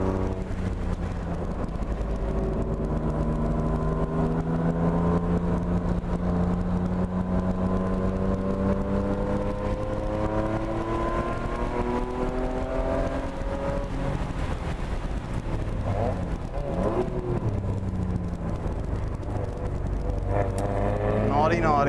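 A car lapping the race track at Atlanta Motorsports Park, its engine droning loud and steady from inside the cabin, pitch climbing and falling through gear changes, with a voice talking over it.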